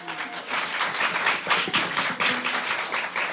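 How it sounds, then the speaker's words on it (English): An audience at a Tulsa Little Jam music taping applauds a singer with a dense, continuous patter of hand claps, fairly close and steady, with little talk. "We'd like to give her a little round of applause."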